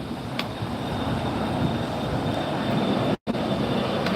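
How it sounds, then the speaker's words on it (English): An American Airlines airliner takes off at Los Angeles International Airport, a broad steady jet roar held for several seconds at moderate distance with a brief cut in the middle. "We've got a United taking off. I'm sorry, American taking off."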